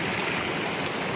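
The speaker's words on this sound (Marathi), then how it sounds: "हे बघा इथे कसं पाणी पडतं छान पैकी" Water pours steadily at Savatsada waterfall near Chiplun, Maharashtra, in the rainy season, a dense, loud, continuous rushing roar that fills the whole clip with no voices.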